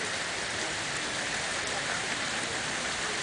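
Steady rain falling outdoors near a pond, a dense, even hiss of drops on surfaces filling the whole clip at constant loudness, with no voices.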